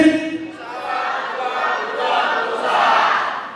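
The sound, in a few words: crowd chanting slogan 'pejuang pengusaha'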